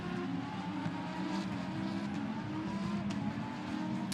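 Lamborghini Super Trofeo race cars sit on the grid at Imola, their engines droning and revving together in a dense, continuous, loud roar with no talk.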